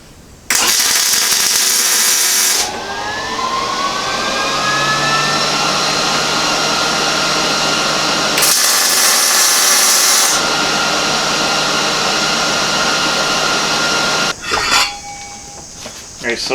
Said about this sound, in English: now I'm going to tack it into the muffler